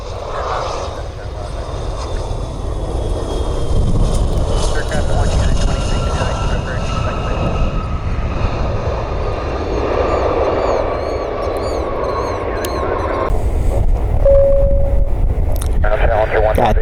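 A Bombardier Challenger business jet arrives at Cleveland Hopkins International Airport toward runway 6 left, its loud engine roar swelling and sweeping past up close, with voices or radio chatter heard under it.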